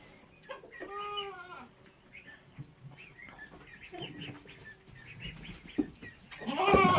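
A pregnant goat on a small farm bleats loudly in a few drawn-out calls while chickens cluck nearby in the coop yard. Other farm noises rise toward the end, with no talking.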